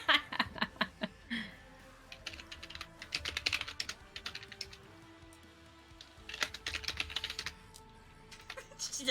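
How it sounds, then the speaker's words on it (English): Frantic typing on a computer keyboard produces rapid bursts of clattering keystrokes, close and fairly loud, pausing briefly before resuming, with faint chuckling in the background. "The frantic typing."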